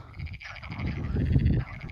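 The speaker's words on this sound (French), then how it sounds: "Vous entendez le crapaud qui dit à sa grenouille?" Frogs and toads croak in a pond just outside Foncé-Badonne along the Camino Francés, a dense close chorus of low rattling calls with a faint higher trill over it.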